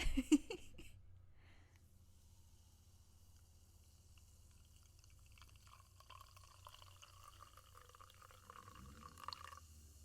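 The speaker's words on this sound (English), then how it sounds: "listen to the ASMR of me pouring cherry cola into a whiskey glass" Cherry cola poured into a whiskey glass: a brief clink and splash at the start, then a quiet, close stream of liquid and fine fizzing that grows livelier toward the end, with no talking.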